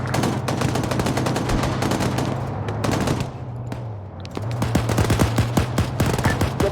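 Rapid bursts of gunfire in a military infantry combat video game, dense overlapping shots and automatic fire running almost throughout, briefly thinning mid-way before resuming loud and continuous over a low engine-like drone.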